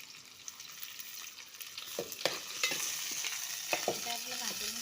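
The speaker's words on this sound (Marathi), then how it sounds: "आता आपलं भाजून घ्यायचं." Chillies, curry leaves and onion frying in oil for a hyacinth bean curry, a low crackle that rises into a busier sizzle as a spatula scrapes and taps the pan, close and fairly quiet.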